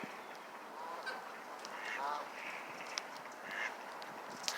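Ducks and geese in Boston honk and quack in a faint, distant chorus of scattered overlapping calls, with no talk over them.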